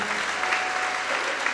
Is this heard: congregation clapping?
yes